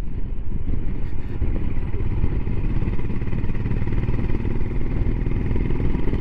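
A Royal Enfield Himalayan motorcycle engine and exhaust rumble steadily and loudly up close, a continuous thick low drone with mechanical clatter and no breaks.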